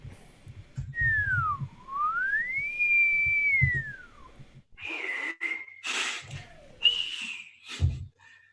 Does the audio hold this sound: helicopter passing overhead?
no